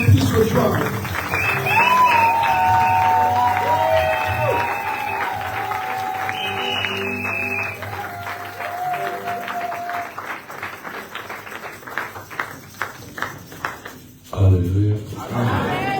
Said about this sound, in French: Si ça vous plaît, c'est là sous vos acclamations.